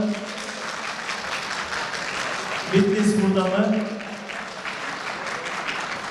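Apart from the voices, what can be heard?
audience applause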